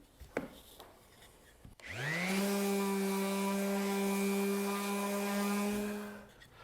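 A power sander whirs up with a sudden motor whine and runs steadily for several seconds against the wooden bow rockers of a rocking horse, loud and close, before winding down.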